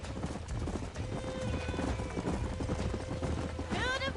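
Horses trot with rapid clip-clop hooves in the Red Dead Redemption video game, a steady busy rhythm ending with a short whinny.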